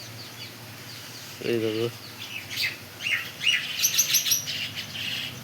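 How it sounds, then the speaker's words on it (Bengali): Small white birds chirp and squabble in quick, bright bursts of tweets that grow busier toward the end, with a short low call partway through and a voice speaking briefly. "এই যে এই ছোট সাদা সাদা পাখিগুলো, এরাও খুব মারপিট করে"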